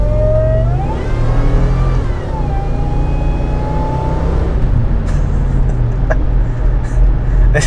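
A supercharged 2003 Ford F150 Harley-Davidson pickup revs hard and loud, its engine roar topped by a sliding supercharger whine that climbs, dips and rises again, followed by a few sharp clicks.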